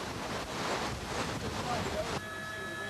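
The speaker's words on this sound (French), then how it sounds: "Beaucoup de vent." Strong wind buffets the microphone during the 1998 Rally of Portugal, a loud rushing roar that cuts off abruptly, leaving quieter background noise with faint tones.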